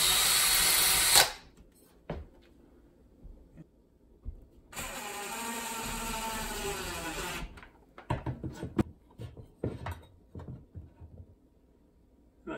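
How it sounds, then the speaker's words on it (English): A power drill whirs in one sustained burst of a few seconds, followed by scattered clicks and knocks of handling tools nearby. "I'll just drill in my bottom hole."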